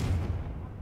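A brief booming blast from the Confringo fire spell in the video game Hogwarts Legacy, a deep heavy explosion that fades within a second.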